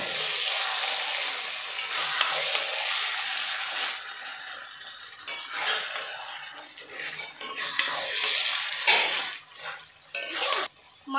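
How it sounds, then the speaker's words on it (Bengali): Marinated mutton drops into a pan of onions and sizzles loudly, the frying hiss swelling and fading in bursts as the meat is stirred, with scrapes and clinks of a utensil against the pan. "মাংসটা আমি দিয়ে দিচ্ছি।"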